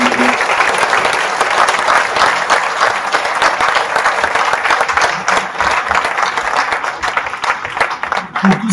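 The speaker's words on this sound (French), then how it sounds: "Je voulais qu'on applaudisse Paul Raymond" Dense, sustained applause from an audience at a mayor's New Year ceremony in Nozay, a steady wash of many hands clapping loudly throughout, with a few voices briefly audible beneath it near the end.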